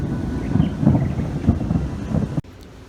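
Thunder from lightning over Macau rolls as a low, rumbling wash with gusty wind noise on the microphone, sustained for a couple of seconds before cutting abruptly.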